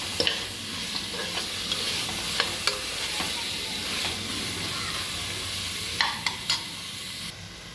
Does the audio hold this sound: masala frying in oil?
yes